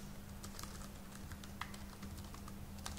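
Rapid, steady computer keyboard typing while entering JavaFX code, with uneven clicks and keystrokes over a low constant hum, close and moderately loud, with no talking.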